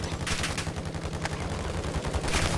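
Rapid automatic gunfire in Call of Duty Modern Warfare II rattles continuously, with rhythmic bursts and booming low thuds layered into a loud, busy firefight that runs with no pause.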